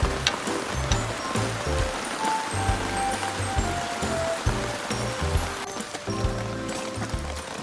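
Heavy rain pours down at a forest campsite during a downpour, a dense, steady hiss of drops with irregular louder patters close by, likely on a tent, and occasional voices beneath it.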